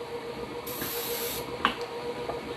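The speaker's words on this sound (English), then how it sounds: "I like to spray mine with some Baker's Joy" Baker's Joy oil-and-flour baking spray hisses from an aerosol can into a cake pan in one steady burst of under a second, close and fairly loud, followed by faint handling clatter.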